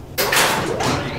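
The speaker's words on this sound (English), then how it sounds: "Doors closing." Otis elevator doors closing: a sudden loud sliding rush that starts sharply and sweeps on with a second surge, close and continuous to the end.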